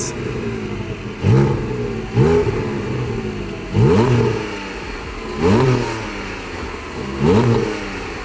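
Porsche sports car engine revving, five loud rising blips spaced about every one to two seconds over a steady idle, each swelling quickly and then falling back.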